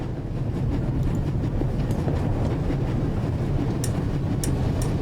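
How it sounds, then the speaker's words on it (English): Steady low rumble of a train running at full speed in an adventure video game set aboard a moving train, with a constant dense roar and faint high clicks near the end, no talk. "It will be suicidal to climb up there while the train is at full speed."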